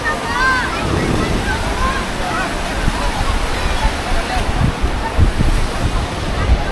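Ocean surf at Juhu Beach in Mumbai rolls in as a steady broadband wash, with wind buffeting the microphone and faint crowd voices underneath throughout.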